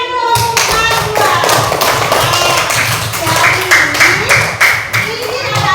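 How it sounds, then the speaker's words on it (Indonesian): A class of children clapping their hands together in a classroom, a steady run of sharp, close claps lasting several seconds with small voices mixed in. "Oke, tepuk tangan dulu kedua."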